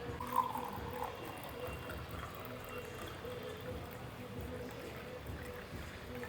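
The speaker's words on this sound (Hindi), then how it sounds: "अगर आप ऐसे चम्मच को ऐसे ऊपर रख के पानी को डालोगे तो वो नहीं गिरेगा" Water poured from above into a glass over a held spoon, a steady low trickle running for several seconds at close range with no talk.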